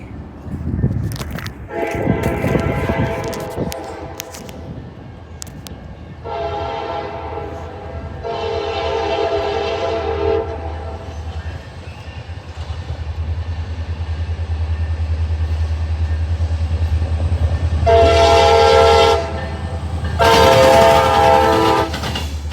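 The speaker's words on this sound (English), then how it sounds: "So this is CSX L780 about to slam the diamond." A CSX L780 local freight train crosses a rail diamond, its loud horn sounding in several long blasts between stretches of heavy rumbling and clanking wheels, close by and rising steadily in loudness.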